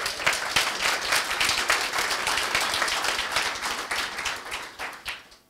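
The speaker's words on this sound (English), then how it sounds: "So give applause." Audience applause after a presentation at a talk, dense steady clapping from many hands that rises quickly and holds for several seconds before thinning out at the end.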